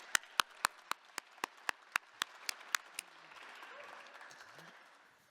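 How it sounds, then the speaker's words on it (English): A lone person claps about a dozen sharp, evenly spaced times at an evening showcase event, then the claps stop and a soft, diffuse murmur of crowd applause and room noise lingers. "Clap it up for Lily."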